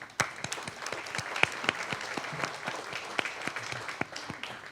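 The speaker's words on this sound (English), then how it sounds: "I think they, too, deserve a round of applause" A room of people at a community breakfast gives steady applause, dense clapping with a few louder claps up close and no speech.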